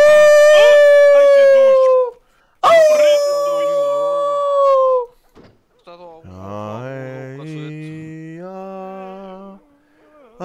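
A wolf in Red Dead gives long, sustained howls, two clear mournful tones in a row, followed by a wavering, whimpering call, loud and close with quiet gaps between them.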